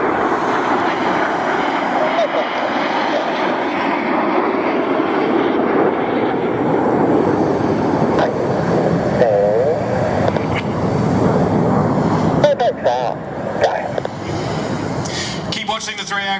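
RAF Red Arrows BAE Hawk jets roar overhead at an airshow, a loud, sustained broadband jet rumble that swells and fades, with a commentator's voice over the public address underneath.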